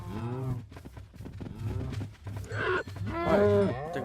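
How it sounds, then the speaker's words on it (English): Several cows moo in a farming video game on an island, with harmonic lowing calls overlapping one another and a low steady hum underneath, the louder moos coming toward the end. "I think I got 1 or 2 extra cows in there."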